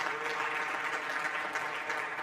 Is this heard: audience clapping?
yes